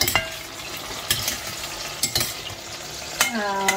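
Spices dry-roasting in a pan on a low-to-medium flame for brinjal kuzhambu, a gentle sizzle under several sharp metal scrapes and clinks of stirring, with a ringing tap near the end and no talk.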